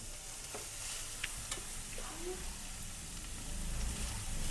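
Grated carrot fries in ghee in a home kitchen pan, a steady soft sizzle with occasional stirring scrapes, fairly quiet and continuous throughout.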